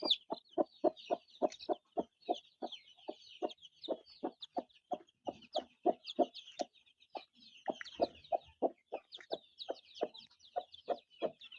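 Chickens in a coop cluck in a steady, rapid run of close, moderately loud calls, with higher peeping chirps layered above throughout.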